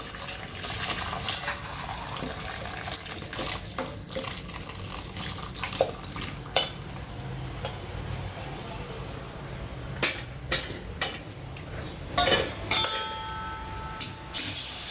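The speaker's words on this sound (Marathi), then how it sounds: "पहिले पाणी टाकायचं" Water pours into a pot of drumstick (moringa) rasam in a home kitchen, a steady close splashing gush with occasional clinks of utensils, which thins into separate splashes toward the end.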